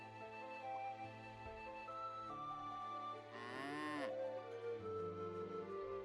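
A single drawn-out cow moo from a farm in the video game Pumpkin Days, rising then bending downward, heard over a steady background of soft game music with no talking.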